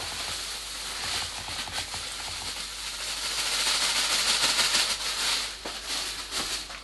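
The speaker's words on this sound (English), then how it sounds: "Just for fun, let's watch it suck some dust." A high power dust extractor with a large cyclone sucks up dust, giving a steady, loud, hissing roar that swells slightly partway through, with no voices.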